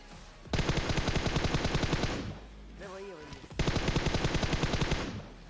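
Automatic weapon fire in PUBG Mobile: two long, loud, rapid bursts with a short gap between them, close and dense, with a brief tonal game sound in the pause.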